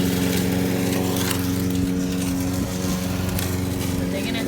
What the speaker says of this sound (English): Sorry about the noise, but Jose is clearing some of the brush, the thorny brush.